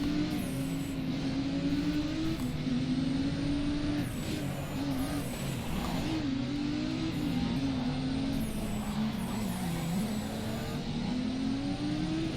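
Race cars drive in the video game Race Driver: Grid, a constant droning engine note that rises and falls as the cars accelerate and shift, with faint passing cars behind it and no talk.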